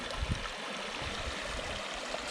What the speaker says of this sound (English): made the ditch in the bottom of this dam break a little deeper to let it flow hard